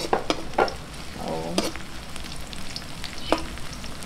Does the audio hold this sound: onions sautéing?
yes